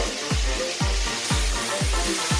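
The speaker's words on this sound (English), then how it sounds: "onions, chorizo, some of the vegetables are in there. And what we're doing is we're just frying that" Steady loud sizzling of onions, chorizo and vegetables frying in a pan, with a regular series of low thumps throughout.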